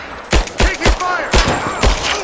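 Gunfire in the video game Rise of the Tomb Raider: about six loud, punchy shots in an uneven rapid series over a steady background of combat noise.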